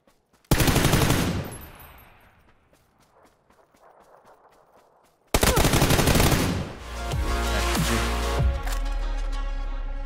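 Automatic assault rifle fire in the battle royale game PUBG, a loud burst up front, a faint lull, then another long sustained burst with dense overlapping shots and game effects.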